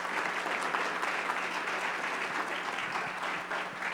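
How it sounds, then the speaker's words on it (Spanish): A forum audience on energy security applauds to welcome a speaker, with dense, steady clapping from many hands filling the hall at a moderate, even level throughout. "Un aplauso fuerte para él"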